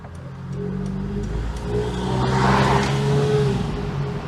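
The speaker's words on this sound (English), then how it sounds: "there's a very peculiar resonance going on there in that exhaust" Low droning exhaust resonance from a Vauxhall Senator B 3.0i CD while driving, a steady engine hum with a slowly shifting pitch that swells in the middle, heard from inside the car with no talk.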